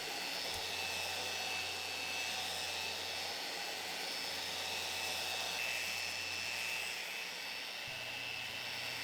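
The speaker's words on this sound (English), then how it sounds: "This is a powerful sander and it removes material in a hurry" A powerful square sander fitted with 80-grit paper works across a large wooden dining table, giving a loud, continuous whirring drone with a faint low hum underneath and no pauses.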